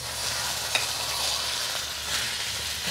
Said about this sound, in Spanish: ya que la cazuela está bien caliente,